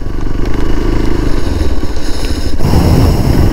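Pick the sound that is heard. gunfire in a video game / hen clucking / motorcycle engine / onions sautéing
motorcycle engine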